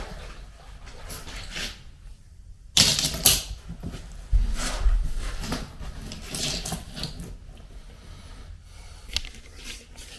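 Ceramic floor tiles dry laid by hand on a bathroom floor near a drain, giving scattered light clacks, taps and scraping clatter in short bursts with quiet gaps, close by.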